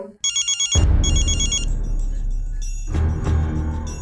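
A rapid electronic ringtone trills in short bursts, then gives way to a louder, dense burst of sound that continues to the end.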